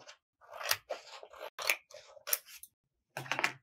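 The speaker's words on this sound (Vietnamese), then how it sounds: "Mình sẽ cắt ra một cái đường thẳng dài để làm cái móc treo này." Scissors snip through a sheet of blue-green coloured paper, cutting a long straight strip in a series of quick, close, crisp bursts separated by short pauses.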